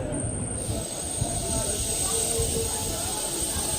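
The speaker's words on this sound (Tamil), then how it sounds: "இந்த மாதிரி ஒரு ட்ரெயின் போகுது இவ்வளோ கூட்டத்தோடு தான் போகுது" Inside the crowded Sengottai–Erode express train, a continuous rumble and rattle of the carriages runs steadily while the voices of many passengers murmur underneath.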